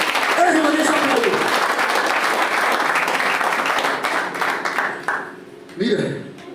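Congregation applause in a church service, a dense burst of clapping with a voice speaking over it, fading out before a short phrase of speech at the end.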